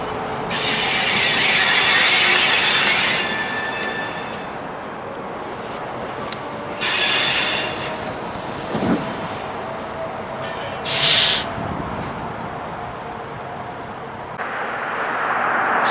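An NYS&W freight locomotive rolls along the Utica branch: a steady, loud rumble runs underneath as several bursts of hissing air swell and fade, with a faint squeal in between.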